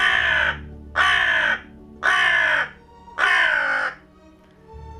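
A crow caws four times in an evenly spaced sequence, each call loud, harsh and close, with brief quiet gaps between them.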